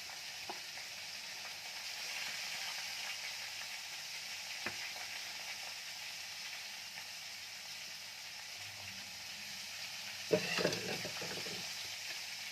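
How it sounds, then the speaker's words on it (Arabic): Fish sizzles steadily in a frying pan of hot oil, a continuous close crackle, with a few short clatters and scrapes as the pieces are turned near the end. "هقلب كده في كل السمك يمين وشمال علشان اضمن ان اللحم بتاعه يكون استوى ويكون مظبوط"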